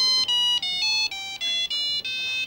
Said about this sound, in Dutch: je kon er ook grappige ringtones op zetten